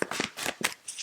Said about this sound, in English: Just going to give these Rider-Waites a shuffle